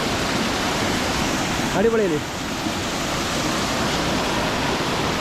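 Erappu (Oliyaruk) waterfall flowing, a steady, loud broadband rush of falling water filling the whole scene, with a brief spoken exclamation partway through.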